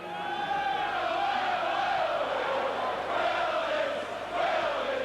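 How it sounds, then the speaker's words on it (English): Leeds rugby league supporters in a stadium crowd at a Regal Trophy match against Bradford Northern, shouting and chanting together in a loud, sustained roar with rising and falling sung tones. "You'll hear the Leeds supporters below me shouting now."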